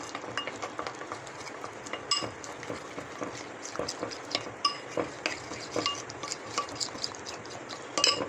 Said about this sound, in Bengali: কর্নফ্লাওয়ার তিন টেবিল চামচ দিয়ে দিচ্ছি ভালো করে একটা মিশ্রণ তৈরি করে নিচ্ছি